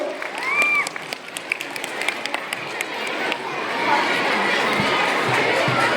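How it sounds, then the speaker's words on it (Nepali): Applause from a crowd at a secondary school's annual day and parents' day celebration, steady clapping with crowd noise and children's voices throughout, swelling slightly toward the end. "सबैजनालाई जोरदार ताली बजाइदिनु हुन हार्दिक अनुरोध गर्दछौँ।"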